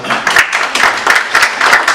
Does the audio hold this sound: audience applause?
yes